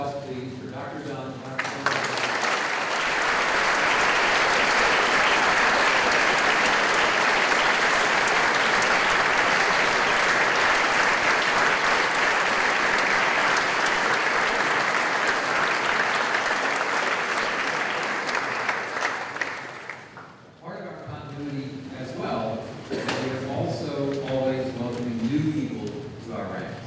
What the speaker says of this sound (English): A round of applause, please, for Dr. Dunn.